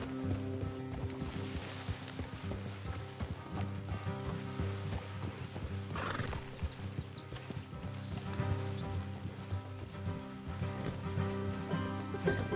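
Horses in a Red Dead Redemption 2 game scene clip-clop along an off-road trail with an occasional whinny, set against a steady bed of ambient music and environmental sound, hooves soft and mid-distance.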